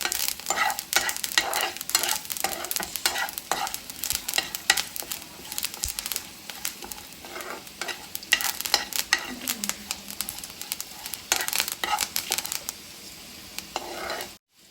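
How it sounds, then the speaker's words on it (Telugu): Curry leaves dry roasting and being stirred in a new ceramic pan, with a light sizzle and crackle under repeated scraping strokes of a spoon against the pan, fairly close and continuous. "వేసుకొని కరివేపాకు కూడా మనం డ్రై రోస్ట్ చేసుకుంటాం"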